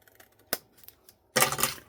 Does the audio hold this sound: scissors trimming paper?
yes